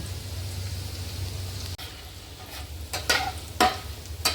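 Garlic with whole spices (cardamom, cinnamon, cloves, peppercorns, bay leaf) frying in a pan for dhaba-style kaju masala, a steady soft sizzle with a few sharper stirring scrapes near the end.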